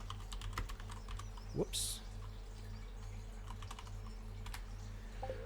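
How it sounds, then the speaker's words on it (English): Typing on a computer keyboard during a Stardew Valley stream, scattered soft clicks and taps under a steady low hum, with a brief spoken exclamation and a short clunk from a mic stand in the way. "it really gets in the way of typing on the keyboard, so I can be a little clumsy while typing around the mic stand"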